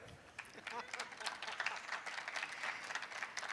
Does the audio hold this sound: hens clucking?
no